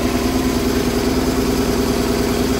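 A BMW R850R air-cooled, oil-cooled motorcycle engine idles after a cold start, a steady close-up throb with an even low-frequency pulse and constant loudness, with no voices.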